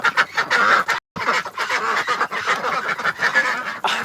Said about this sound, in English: The ducks are louder than the chickens